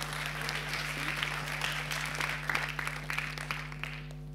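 At an awards presentation, the audience gives a burst of moderate applause for the technical crew, scattered claps over a steady low electrical hum.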